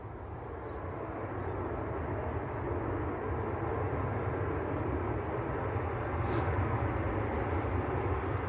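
A TAP airliner taxiing out at Manchester Airport, a steady low engine rumble and broad roar heard from a distance, holding level throughout with no talk.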